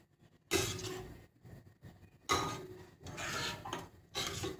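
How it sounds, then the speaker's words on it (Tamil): Amma-style vatha kuzhambu, a tamarind curry, stirred in a pot on high heat, with a few separate bursts of scraping and sloshing strokes close by and no talking. "வச்சுட்டு அதை நல்லா இப்படி கிளறி விடுங்க."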